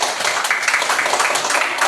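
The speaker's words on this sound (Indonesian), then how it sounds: "Ya, tepuk tangan dulu untuk kelompok 2." A classroom audience claps for a student group, with dense, continuous close applause lasting throughout.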